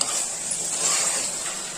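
Close, steady sizzling of masala frying in a hot pan for Kolkata-style mutton biryani, with light scraping as the mixture is stirred.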